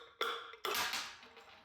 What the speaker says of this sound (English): Grab my hammer. I tap the IFP out.